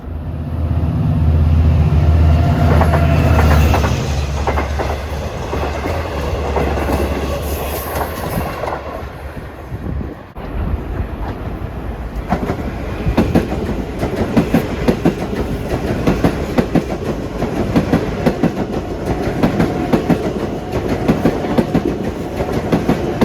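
An LIRR commuter train bound from Grand Central to Far Rockaway runs past Woodside station in the evening rush. Its loud, close rumble carries steady clickety-clack wheel noise, with a brief dip near the middle before the rolling clatter resumes.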